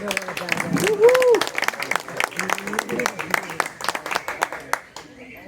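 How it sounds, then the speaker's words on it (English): Scattered clapping from a small group, uneven and fading toward the end, with a voice briefly calling out near the start. "So everyone, say hello to Ted, give him a big round of applause."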